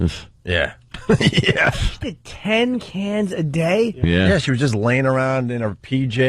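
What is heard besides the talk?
No distinct noise like a dog, phone or traffic.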